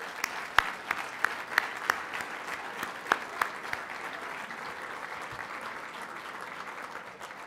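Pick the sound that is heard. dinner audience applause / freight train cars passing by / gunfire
dinner audience applause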